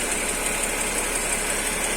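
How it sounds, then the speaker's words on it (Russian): A Mercedes M112 engine idles steadily with a ringing knock carried through the exhaust, a continuous close mechanical drone with no talking. "Вот такой вот звук. Стучок появился."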